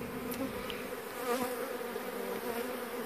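Honeybees covering exposed comb during a removal from a Florida mobile home hum in a thick, continuous close buzz, steady and moderately loud with no speech.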